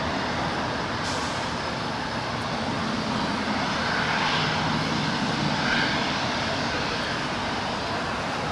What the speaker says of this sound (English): KLM flight 601 coming in from Amsterdam in a 787-10 Dreamliner